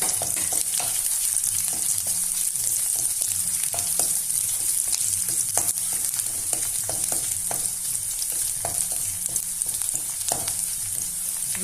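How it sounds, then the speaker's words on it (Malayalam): Garlic and ginger frying with mushrooms in a pan for a kadai mushroom curry, a loud continuous close sizzle with occasional stirring scrapes and pops throughout. "ഇതിലേക്ക് വെളുത്തുള്ളി ചേർത്ത് ഇഞ്ചി ഇട്ട് കൊടുത്ത്"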